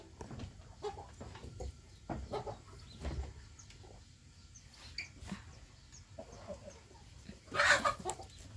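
A chicken clucking in scattered soft bursts over a quiet outdoor background, ending with one louder, sharper squawk near the end, with no talk.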